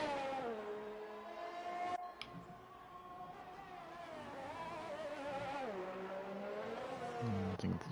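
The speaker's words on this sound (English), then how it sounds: "that engine sound is pretty disgusting" Formula 1 car engine in the F1 2019 racing game, a high whining tone that rises and falls with gear changes and revs, steady and close, no talk.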